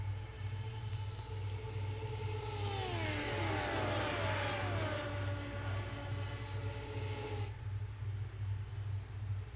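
Radical SR8 race cars in a sim racing game at Le Mans, several engines whining at high revs with pitches sweeping down through gear changes as cars pass, over a constant low droning hum, no voices.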